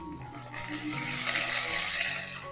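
Two onions sliced lengthwise drop into hot oil with cloves, bay leaf and whole spices, setting off a sudden loud hissing sizzle that holds steady, close up.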